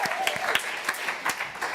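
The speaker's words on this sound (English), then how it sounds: "Give us a little round of applause for our panelists," An audience gives a short round of applause for panelists at a college talk event, the claps fairly distant and mixed with a few voices for under two seconds.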